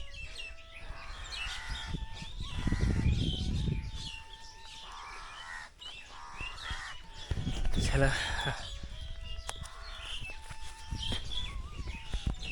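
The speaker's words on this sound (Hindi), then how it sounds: "सुंदर पक्षियों की आवाज़ आ रही है" Birds call and chirp outdoors at a rest stop along a riverside footpath, with bright repeated tweets scattered through the clip beneath a voice and moments of louder talk.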